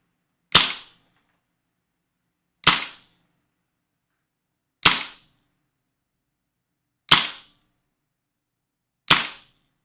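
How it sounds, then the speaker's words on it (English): An Elite Force Umarex KWA HK416D airsoft rifle fired on semi-auto: five sharp, separate pops about two seconds apart, close and clean, with silence between shots. "Do a couple shots on semi first."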